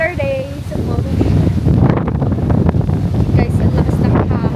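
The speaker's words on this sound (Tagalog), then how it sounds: "Guys, ang lakas ng hangin." Strong outdoor wind buffets the microphone in a loud, continuous roar with gusty surges, and brief voices are heard at the start.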